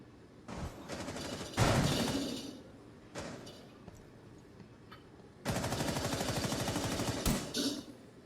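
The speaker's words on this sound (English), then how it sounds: "they're going to probably fire a few shots in a second. Yeah, like that." Gunfire in the Rainbow Six Siege game comes in several bursts of rapid automatic shots, separated by quieter gaps with a few single reports, fairly distant and muffled at first, then a longer, louder stream.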